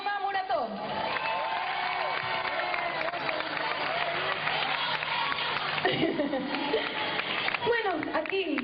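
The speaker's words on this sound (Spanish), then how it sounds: "Un fortísimo aplauso para Jaume Murató." Applause, cheers and whoops from a concert crowd for a band member at a pop singer's live show in Sueca, Valencia, a dense, steady roar running throughout with music and voices mixed in.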